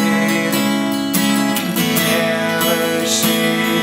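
Acoustic guitar strumming chords for a song, played steadily with repeated strums that swell as the part builds, close and full with no talking.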